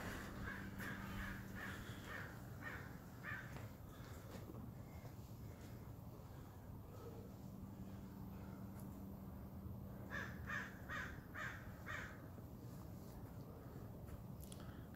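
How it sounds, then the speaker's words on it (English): Crows caw in a series of harsh, rhythmic calls at a moderate distance outdoors, quiet overall, with a few bursts of several caws in quick succession. "So the crows are cheering you on right now, dog."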